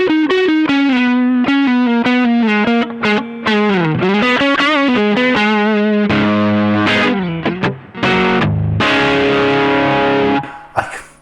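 A Yamaha Revstar RS502 electric guitar played through its P90 neck pickup with distortion gives a big, thick overdriven tone in a continuous run of bends and sliding melodic lines, then heavier chords, loud and without talk.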